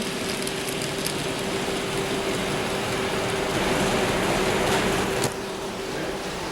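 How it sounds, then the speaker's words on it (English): An N scale model Pennsylvania reefer freight train rumbles steadily along its track with a soft continuous rolling noise and faint hum, no voices. "there goes Dick's Pennsylvania reefer train"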